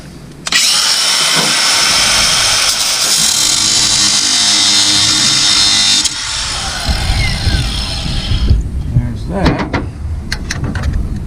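A cordless drill spins to tighten a pipe sander attachment, giving a loud, sustained whir that shifts pitch partway through and then stops, followed by clanks and handling knocks.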